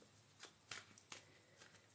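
A deck of reading cards is shuffled in quick, soft riffling bursts and flicks, faint and close, with no one speaking.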